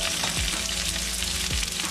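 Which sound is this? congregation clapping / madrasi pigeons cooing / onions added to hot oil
onions added to hot oil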